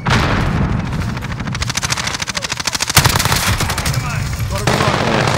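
Call of Duty Modern Warfare 2019 gunfire: loud, continuous automatic fire with fast regular shot rhythm, a sharp heavier crack midway, and dense battle noise throughout.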